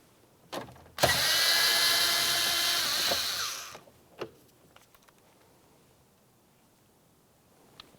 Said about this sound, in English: you have 1 screw to remove. You can either use a 7mm or a Phillips head.